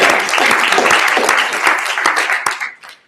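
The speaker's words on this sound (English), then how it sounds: "let's give them a huge round of applause" An audience bursts into loud, dense applause at a foundation event introduction, sustained for a few seconds before tapering off quickly.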